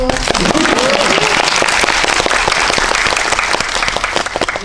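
Dense, steady applause from a cinema audience at a post-screening talk for the Korean film Highway Family, praising the child actors; loud, continuous clapping fills the whole stretch and fades slightly at the end.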